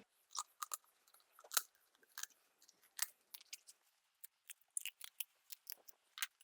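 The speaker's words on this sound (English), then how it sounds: "we're just going to start at the back end and we're just going to remove this backbone here" Kitchen shears snip through the backbone of a whole raw turkey in a quiet kitchen, making irregular, close, crisp crunching cuts of bone and cartilage with short pauses between them.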